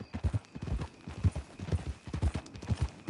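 A horse in the Red Dead Redemption 2 video game walks on hard ground, its hooves making a steady, close clip-clop rhythm of about three beats per second, alone.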